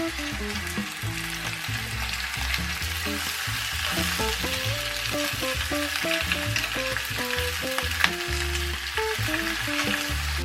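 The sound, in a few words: shredded cabbage frying in a pan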